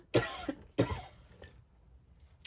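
A person coughs twice in close succession, sharp and close, with a softer throat sound following and quiet room tone after.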